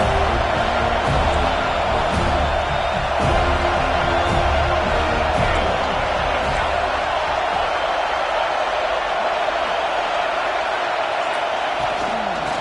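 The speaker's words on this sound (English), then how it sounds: "the crowd coming to life here, trying to help this defense down in the red zone" A stadium crowd roars in a Madden football video game, a constant broad swell of cheering under a commentator's voice, fuller at the start and easing slightly later.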